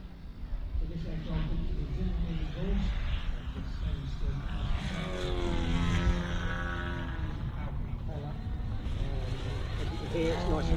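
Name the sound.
model Super Chipmunk aircraft flying at air show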